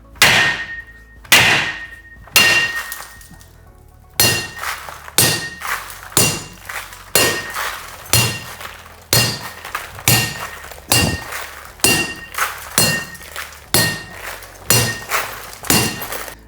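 A baseball bat repeatedly strikes a window glass pane covered in security tinted film. Around fifteen loud, heavy thuds with glassy clinks land in a steady rhythm about once a second, close by, with no talk.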